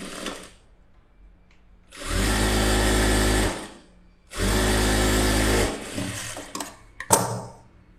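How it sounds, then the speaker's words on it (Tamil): A sewing machine runs in two loud bursts of steady, rapid stitching, each lasting over a second, while sewing a blouse lining, with a quiet pause between and small handling clicks afterward. "பக்கத்தில் ஒரு தையல் போட்டுக்கோங்க"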